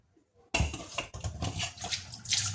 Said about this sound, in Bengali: তো এই কচুর গাঁঠিটাকে ধুয়ে পরিষ্কার করে একটু সেদ্ধ বসিয়ে দিই।